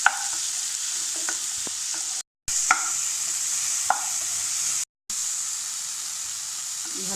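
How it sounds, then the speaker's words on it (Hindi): Cashews and almonds with a pinch of salt roasting lightly in a kadhai, giving a steady close sizzle and hiss with occasional stirring scrapes and clicks, no voices. "काजू बादाम संगे चुटकी भर नून। एकरा हल्का सा भुजनाइ छै"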